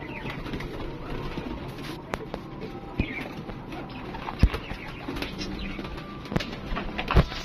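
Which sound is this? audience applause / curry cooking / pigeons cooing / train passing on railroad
pigeons cooing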